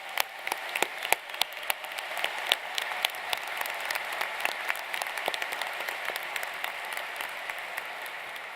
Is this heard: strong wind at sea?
no